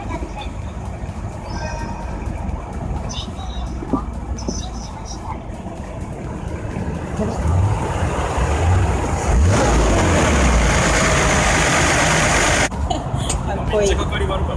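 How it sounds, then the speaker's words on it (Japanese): A Mercedes W124 with a 3.6-litre AMG engine turns over reluctantly and then settles into a rough, throaty idle. The broadband rumble thickens partway through and holds steady, with a person talking nearby. "本当に温まった後にエンジンかけるとガスガスガスっていう"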